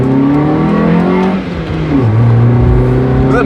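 A Mazda Miata with a cheap aftermarket intake revs loudly through second gear toward 6,500 RPM. The engine note climbs steadily, dips briefly at a shift, then pulls strongly again from close by.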